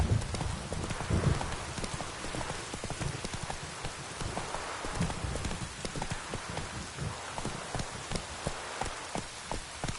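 Roach the horse gallops in The Witcher 3, a fast, even run of hoof thuds throughout that sounds close, set against a soft hiss like rain, with no talking.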